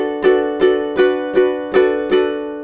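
A ukulele plays a chord pattern from a song, with six evenly spaced strums ringing out clearly and close, each one decaying before the next, with no talk.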